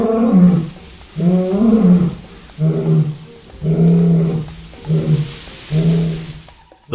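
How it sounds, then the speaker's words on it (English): A wild lion roars out in the open. It gives a series of six deep, throaty roars and grunts, loud and close, separated by short pauses. "The lion roared and charged toward them at incredible speed."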